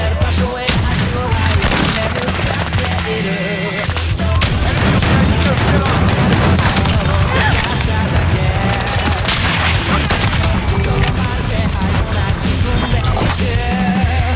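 Call of Duty Modern Warfare multiplayer battle with continuous loud gunfire, grenade blasts and heavy booms layered densely throughout, with chaotic impacts and crashes and no clear pauses.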